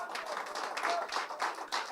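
A church congregation applauds together, giving a steady, fairly quiet wash of many hands clapping with a faint rhythmic pulse and no clear voices on top.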